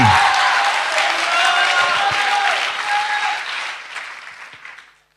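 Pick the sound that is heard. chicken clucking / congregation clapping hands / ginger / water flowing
congregation clapping hands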